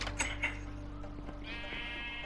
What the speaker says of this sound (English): This sheep? So ugly, bro.